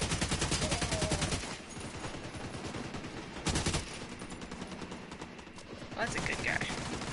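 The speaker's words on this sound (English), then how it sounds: "I'm just shooting you in the back!" A shooter video game fills the mix with rapid automatic fire in fast rattling bursts, pausing briefly and then resuming, fairly quiet overall with occasional voices underneath.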